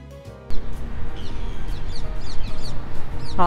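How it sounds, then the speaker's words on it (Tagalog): Birds chirp and call repeatedly in a park, their short bright calls rising over loud, close, blustery wind or handling rumble, with a sharper call near the end. "Naririnig nyo yung mga ibon?"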